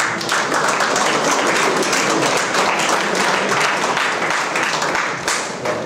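Audience members at a college faculty development session clap together in a sustained, loud round of applause, dense and close, tapering briefly near the end.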